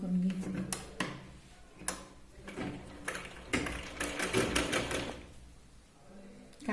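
A sewing machine runs in quick bursts of rapid mechanical stitching along the edge of a Katori blouse in slippery fabric, with short pauses, clicks and cloth handling between runs, close and fairly loud.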